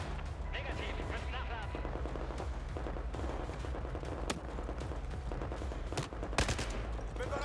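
Rapid gunfire rattles in a Battlefield 4 firefight, with bursts of machine-gun and rifle shots and sharp cracks. A player talks over the shooting.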